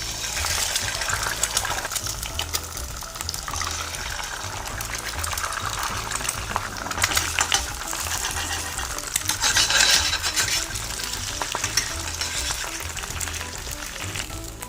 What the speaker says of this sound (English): pour the egg.